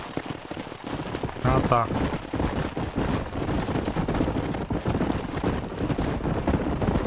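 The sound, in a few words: horses' hooves in video game Red Dead Redemption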